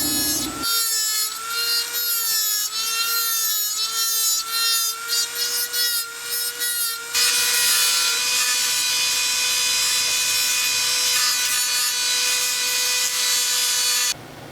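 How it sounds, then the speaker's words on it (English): A high-pitched rotary cutoff tool and sanding drum whine while shaping a homemade lightsaber hilt, pitch wavering at first, then settling into a steady abrasive sanding hiss before stopping. "Use your cutoff tool and your sanding drum to form this area here."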